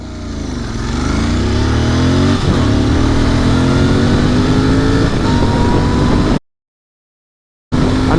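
A Royal Enfield parallel-twin motorcycle engine revs hard and climbs steadily through the gears as it accelerates from zero to a hundred, loud and close. The sound cuts out abruptly for about a second, then the engine roars back.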